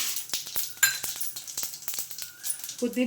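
Mustard seeds, cumin and chana dal fry in hot oil for a village-style tamarind chitranna, giving a soft crackle with small sharp pops and a few clinks of a spoon against the pan.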